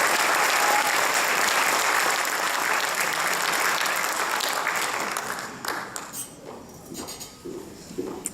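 A crowd at a senior awards ceremony claps loudly and steadily, then the applause thins out into scattered claps before fading.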